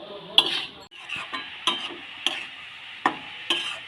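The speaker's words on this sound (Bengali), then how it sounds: "সমস্ত উপকরণ দিয়ে ফুলকপিটা খুব ভালো করে মেশানো হয়ে গেছে" Cauliflower filling for gobi paratha is stirred in a pan, with a soft sizzle under about half a dozen sharp metal spatula knocks and scrapes spaced unevenly, close and clear, with no voices.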